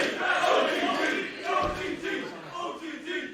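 Wrestling crowd at an OTT show in Belfast cheering and shouting in appreciation at a match's finish, a fairly faint, swelling roar with a few sharper yells and some voices mixed in.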